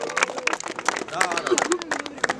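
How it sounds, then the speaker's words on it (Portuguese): A crowd at a student rap battle claps and cheers after a round, a dense patter of many hands mixed with shouts and babble throughout. "Salva de palmas aí pra esse round"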